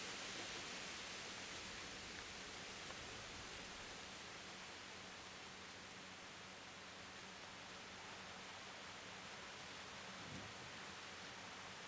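Steady rain in the video game Kingdom Come: Deliverance, a constant broadband hiss that stays even and moderately loud from start to finish, with no talk.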